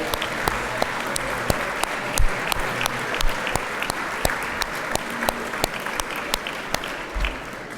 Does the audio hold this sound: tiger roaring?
no